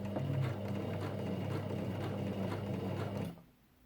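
A Janome FD206 or RE1306 sewing machine stitches through fabric with a quiet, steady mechanical whir and light ticking for about three seconds before stopping.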